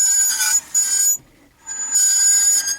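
The wheel of a jacked-up Citroen Jumper van squeals as it is turned back and forth by hand, giving high, tonal, melodic squeaks in two bursts separated by a short quiet pause.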